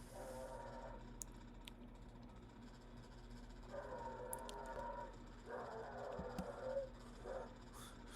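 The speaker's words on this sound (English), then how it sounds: "I don't know if you guys can hear my dog screaming into the background." A dog downstairs whimpers and yelps in faint, drawn-out bursts, distant and muffled beneath a steady background hum.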